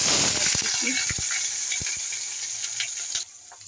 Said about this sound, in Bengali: দেবো আমি এই শুকনো লঙ্কা তেজপাতা আর এই গোটা জিরে ফোড়ন দিলাম